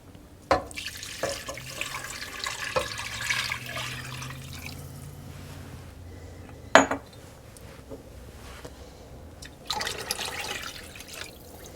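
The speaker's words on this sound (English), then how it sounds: "Add the chicken stock over the lemongrass." Chicken stock poured into a pot over lemongrass, a soft splashing pour with faint clinks of kitchenware and one sharp knock, heard quietly and close with no talk.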